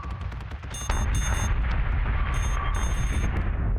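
Starship weapons fire in the space strategy game Battlestar Galactica Deadlock, during a co-op match: dense rattling bursts and booming impacts pile up, turning louder and more sustained after the first second, with no talking.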